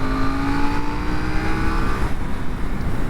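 A KTM Duke 790 motorcycle accelerating in fourth gear, its engine a steady, loud, continuous drone with a rising tone, close and dominant throughout with no talk over it.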